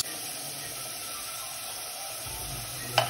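Potato pieces fry quietly in a pan, giving a faint, steady sizzling hiss throughout with a small clink near the end and no one speaking.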